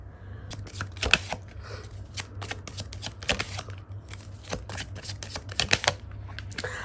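Tarot cards are shuffled by hand in a quick, papery riffle of repeated flicks and snaps over about seven seconds, close and fairly soft, with no talking and a low steady hum beneath.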